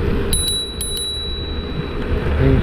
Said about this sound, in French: La sonnette est intégrée sur le levier de frein.